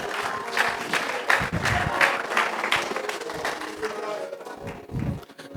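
A church congregation applauds and cheers during a worship service, a steady wash of many hands clapping with scattered shouts, moderately loud and filling the room before tapering off.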